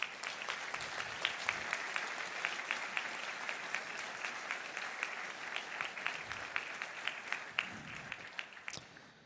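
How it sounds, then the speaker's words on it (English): Sustained audience applause at a cryptography conference's opening session, many hands clapping steadily and evenly for several seconds, fairly loud and alone, tapering slightly toward the end. "let's do a round of applause for them"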